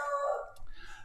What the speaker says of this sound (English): It's my beagle barking